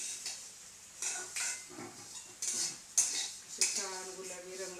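Vermicelli roasting in a pan over a low gas flame is stirred with a metal spoon, a series of close scraping, clinking strokes about once a second over faint background hiss.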